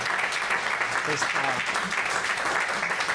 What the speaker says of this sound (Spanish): Les damos un aplauso para comenzar con calor